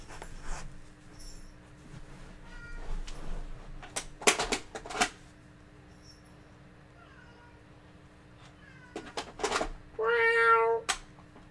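A cat meows in a short series of calls near the end, following scattered handling and tapping noises around a retro game setup, with no talking.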